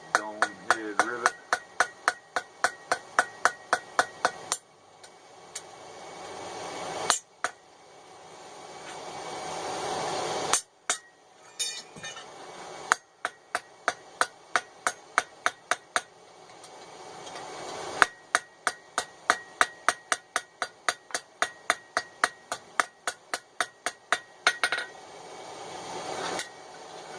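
A hammer peens a dome head rivet on a pair of forged tongs at a blacksmith's anvil: bursts of sharp, ringing metallic blows in quick runs, pausing briefly between sets, close and clear with no talk.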